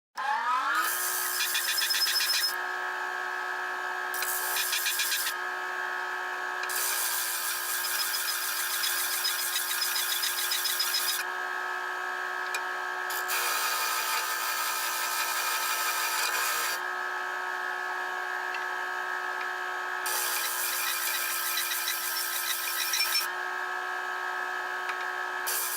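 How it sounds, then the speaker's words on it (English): A disc sander grinds against wood with a steady high mechanical whine, broken by repeated louder bursts of rasping each time the workpiece is pressed to the disc; no voices. "very cautious with a disc sander"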